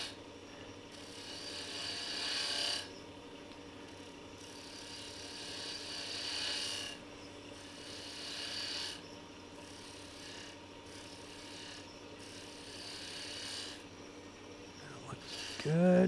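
Fine detail gouge cutting a spinning wood workpiece on a lathe while turning an antique gas pump replica, a steady scraping rasp with periodic swells of cutting noise over a continuous motor hum, close and moderately loud.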